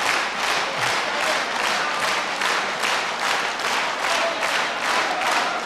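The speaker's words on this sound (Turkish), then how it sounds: "Ve biz bir daha teşekkür ederiz alkışlarımız için." Sustained, even applause from an audience after an Azerbaijani music performance, steady dense clapping that stays loud throughout with no voices on top.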